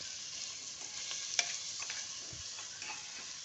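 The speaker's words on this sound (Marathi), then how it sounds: "आता परतून घेणार आहे तुपामध्ये" Grated red pumpkin sautés in ghee with a soft, quiet sizzle and light scraping as it is stirred, one small clink standing out.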